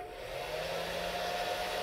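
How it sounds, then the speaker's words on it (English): A hair dryer set to low and warm, powered from an AllPowers R600 solar generator, gives off a steady, even whir with a constant hum that holds unchanged from start to finish, close by and alone. "so I'm going to turn it on low"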